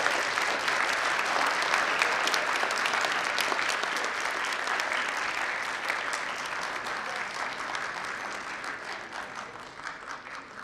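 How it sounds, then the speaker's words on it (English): Sustained applause from a large conference audience, dense and steady, easing off slightly toward the end. "A big clap for both of them."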